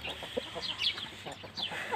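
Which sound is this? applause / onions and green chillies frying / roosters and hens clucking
roosters and hens clucking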